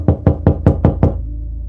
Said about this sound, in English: The door knocked on us,